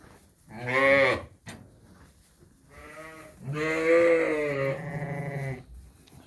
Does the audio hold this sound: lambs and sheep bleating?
yes